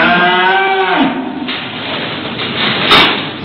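A cow gives one loud, close, drawn-out moo that fades after about a second. A brief knock and rustle follow, with no talking.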